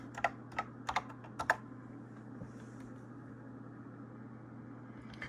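Several quick keystrokes on a computer keyboard in a short burst at the start, then only a low steady hum of machine noise.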